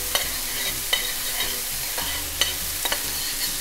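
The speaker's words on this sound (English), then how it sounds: "All right, just give that a nice little shake," Couscous shaken and tossed in a dry pan, a soft rustling hiss broken by a few sharp clicks and knocks as the pan is jolted, close and alone without talk.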